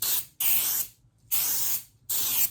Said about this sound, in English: I'd probably spray a bunch and then let it